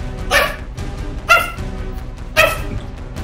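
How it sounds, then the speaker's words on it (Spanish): Three loud dog barks, spaced roughly a second apart, close by in a house over a low background hum. "¿Por qué estás ladrando tanto?"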